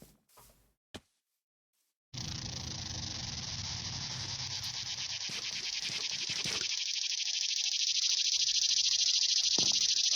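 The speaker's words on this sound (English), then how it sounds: "Oh no, there is a cicada." A cicada buzzes indoors, a loud, continuous shrill drone that starts abruptly after a short silence and holds steady for several seconds, with a few faint clicks.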